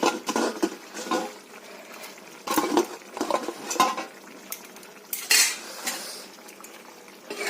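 A utensil scrapes and clinks against a pan while fish curry topped with chopped coriander is stirred, in several short bursts of metallic scraping and tapping with pauses between, close and fairly loud, with no talk.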